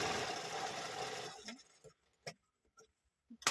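A domestic sewing machine stitches a frill onto a ready-made blouse, a dense steady whirring run for about a second and a half, then it stops, leaving only scattered small clicks and handling taps.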